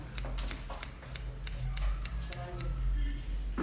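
Scissors snip and thin the hair ends during a short bob haircut in a salon, giving quiet repeated crisp cuts over a steady low background hum.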